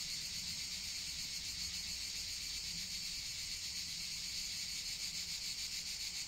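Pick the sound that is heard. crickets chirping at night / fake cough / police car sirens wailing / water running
crickets chirping at night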